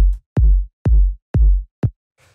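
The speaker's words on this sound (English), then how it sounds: "just like a punchy sort of kick" Punchy 808-style kick drum sample struck five times in an even beat, each hit a loud, deep booming thump with a quick decay, then a faint short noise at the end; no voices.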